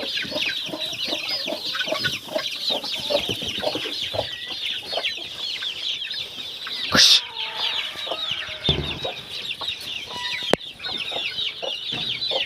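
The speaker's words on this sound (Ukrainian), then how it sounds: "Бентамки сваряться." Bantam chickens squabbling close by, with rapid overlapping clucks and agitated squawks running continuously, a sharp louder cry midway and occasional scuffling thumps.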